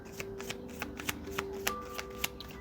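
Tarot cards being shuffled by hand at close range, with a rapid run of crisp riffles and soft slaps in a steady rhythm and no one speaking.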